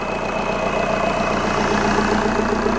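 A steady, loud VW TDI CJAA diesel engine idle, running out of the car on a shop floor, with a low rhythmic chug, continuous and close, without any talking.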